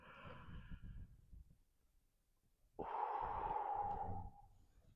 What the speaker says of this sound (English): big inhale up, long exhale out